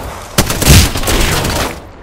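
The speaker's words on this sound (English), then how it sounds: "Firing." Gunfire in the battle-royale shooter Apex Legends: a sharp shot lands, then a dense burst of rapid rounds rolls on for over a second, loud and close, before cutting off into quiet.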